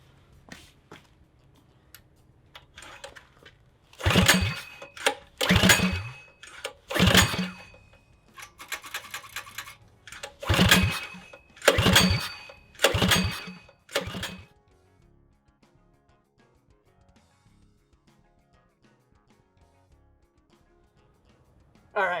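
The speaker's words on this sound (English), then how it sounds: "I feel kind of dumb after cranking on this thing for a little while and not getting it to start" A Predator 212cc engine mounted on a homemade motorbike is cranked repeatedly without starting, giving a series of loud, close rasping pull bursts with brief pauses between them, then quiet.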